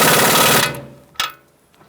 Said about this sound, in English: I'm using a 21 millimeter long socket and my impact gun